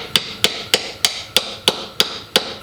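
Eight evenly spaced, sharp metallic hammer blows ring out close by as a greased bushing is pounded into a drivetrain part, with no talking.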